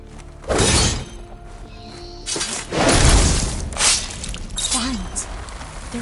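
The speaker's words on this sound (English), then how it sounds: "Vines. They're falling apart." Overgrown vines shatter and fall apart in Horizon Forbidden West. Several loud, crunching bursts arrive in uneven waves, and a brief voice cuts in near the end.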